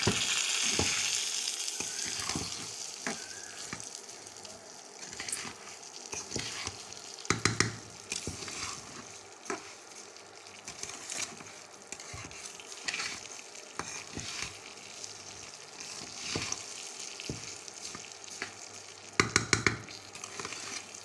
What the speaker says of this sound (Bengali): তো এবার চালটা আমি ঢেলে দিব